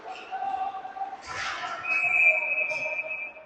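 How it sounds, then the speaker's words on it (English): A referee's whistle blows at an ice hockey game, one sharp sustained shrill blast after a brief thud, over arena crowd noise and rink clatter. "Going to blow the whistle as Jackson's glove came off."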